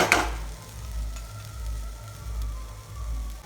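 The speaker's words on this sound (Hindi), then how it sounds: "फिर भून दो संगवारी बन बढ़िया" Egg and soya bhurji sizzling and frying in a pan, a steady close crackle with a soft rhythmic low bubbling throughout, no voices.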